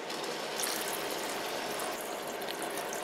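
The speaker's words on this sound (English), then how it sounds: "I increased the speed of the water pump." A water pump on a portable high-power broken tap remover (SFX-4000B) sends water flowing in a steady, even hiss with a faint mechanical rattle underneath, close and continuous with no talk.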